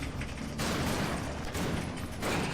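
Explosive blasts from the Vera shotgun in the action RPG Victor Vran, a few loud, dense bursts with crackling tails in quick succession and no talk.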